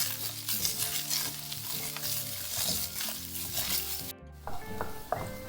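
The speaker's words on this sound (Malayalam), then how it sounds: "ഉള്ളി ഏകദേശം വഴന്ന് വന്നിട്ടുണ്ട്" Chopped onion sautéing with garlic in a hot pan for a paneer cheese sandwich filling, a steady close sizzle and frying crackle with occasional stirring scrapes, heard alone without talk.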